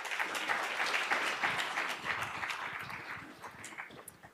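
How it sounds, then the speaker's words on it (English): An audience gives a round of applause to honor a speaker at a presentation: dense, steady clapping from many hands, sustained for about four seconds and tapering slightly at the end. "Let's give her another round of applause,"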